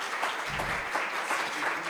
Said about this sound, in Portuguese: Queridos, vamos dar uma salva de palmas para eles.